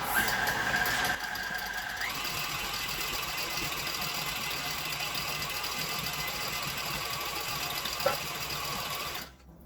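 A stand mixer kneads vegan hot cross bun dough, giving off a steady, close mechanical whirring hum that runs on unchanged for nearly ten seconds before cutting out, with no talking.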